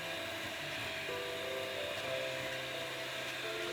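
An electric mixer whips apple cake batter with a continuous, close whirring drone whose pitch shifts slightly as the speed changes, with no talking.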